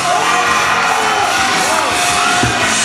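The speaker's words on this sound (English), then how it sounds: "watching the audience cheer as he dies" A crowd cheers and whoops loudly and without a break, with shouting voices rising over a dense roar as an audience reacts to a man dying on screen.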